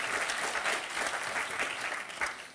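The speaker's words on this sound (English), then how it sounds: "let's give them both a round at once" Steady audience applause at a World Travel Market 2012 session on India's economy, a dense broadband patter of many hands clapping close up, holding even for nearly three seconds before starting to thin.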